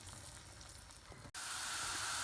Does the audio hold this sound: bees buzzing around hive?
no